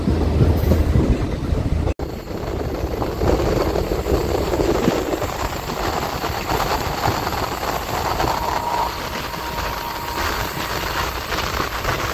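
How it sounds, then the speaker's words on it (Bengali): Tripura local train on the line out of Agartala rumbling steadily along the track with continuous wheel and carriage noise, close and loud, alone without talk. "আমাদের এই ট্রেন এখন 6 নম্বর স্টেশন গৌজিতে এসে জাস্ট অ্যারাইভ করলো"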